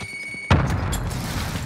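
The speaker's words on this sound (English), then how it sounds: "Grenade out!" Grenade explosion in a video game: a single sharp boom after a faint electronic tone, followed by a rumbling decay and scattered debris noise.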